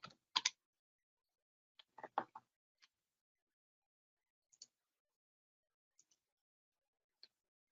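Sparse keystrokes on a computer keyboard as a filter name is entered, a few quick clustered taps early, then isolated clicks spaced out across a silent background.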